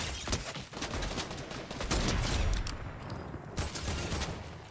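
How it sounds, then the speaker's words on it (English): Rapid bursts of gunfire from the Fortnite battle royale video game crackle through a dense, noisy mix, with overlapping shots building into a loud, sustained barrage that briefly eases and then returns. "Oh, shooting at me."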